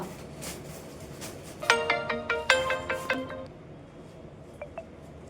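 A phone ringtone plays a short, bright electronic melody of repeated tones over faint background noise, followed by a couple of soft beeps.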